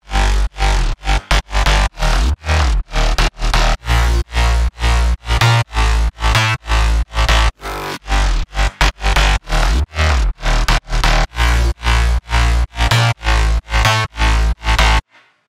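A layered future bounce bass group built in Ableton Live 11 plays alone, loud and continuous, with punchy rhythmic pulses that gate on and off in a bouncy repeating pattern throughout.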